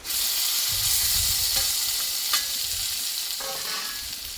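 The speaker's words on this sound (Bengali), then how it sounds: "যে পাতাটা ভালোভাবে কিন্তু আমি তেলে এভাবে ভেজে নেবো একটু" Curry leaves with turmeric and salt fry in hot oil, a steady close sizzle with occasional louder pops and stirring scrapes, no talking.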